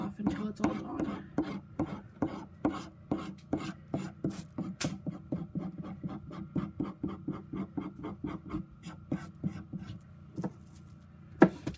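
A tool scrapes residue off a block of rendered beef tallow in quick, steady rasping strokes, close and clear, each scrape a short scratchy burst with no talking.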